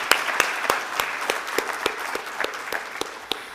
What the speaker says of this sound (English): please give another round of applause to our speakers and panelists